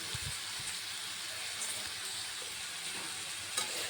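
Potato and bitter gourd frying in a pan, a faint, even sizzle with soft stirring touches and a brief clink near the end.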